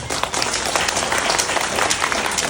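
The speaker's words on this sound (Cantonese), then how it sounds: "所以俾我哋第一排嘅領導人一個熱烈嘅掌聲" Warm applause from an audience honouring front-row leaders at a closing gathering, a dense continuous patter of clapping filling the whole moment at a strong, even level.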